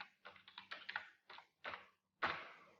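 Code is typed on a computer keyboard in short bursts of clicky keystrokes, close and fairly faint, with brief pauses and a final firmer key press, no talking.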